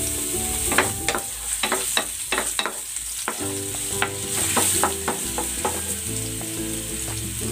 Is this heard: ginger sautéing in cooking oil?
yes